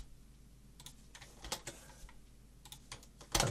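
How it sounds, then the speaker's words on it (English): Keys clatter on a computer keyboard in short bursts of close, quiet clicks and taps, ending in a sharper key press. The room is otherwise quiet. "we press Control and Enter on our keyboard"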